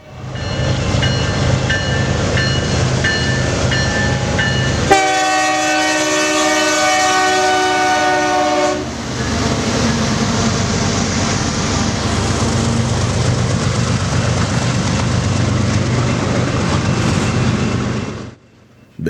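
A BNSF intermodal freight transfer train, led by locomotive 1066, rumbles past continuously up close; a loud multi-tone horn blast sounds for about four seconds in the middle, then the steady rolling of the cars continues until it cuts off.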